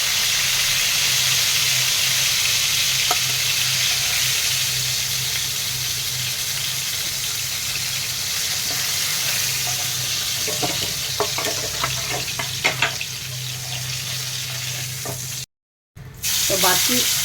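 Bhola fish fries in hot oil in a home kitchen, a loud steady sizzle running throughout with scattered stirring clicks and scrapes near the end.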